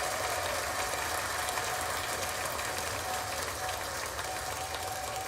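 Steady, dense applause of many hands clapping at once, loud and even throughout with no pauses or voices on top.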